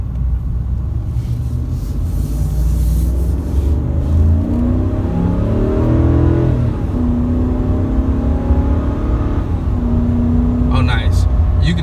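A 2019 RAM 2500 Heavy Duty Tradesman pickup held in fourth gear, its deep engine rumble rising steadily as it accelerates, loud and close from inside the cab, with someone talking over it.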